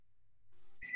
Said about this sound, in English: Someone smoke alarm going off? No, the rice timer.